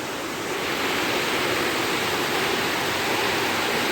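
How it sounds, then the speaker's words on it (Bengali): Heavy torrential rain pours down in a steady, dense broadband roar, loud and continuous throughout with no voices. "আজকে মুষলধারে বৃষ্টি"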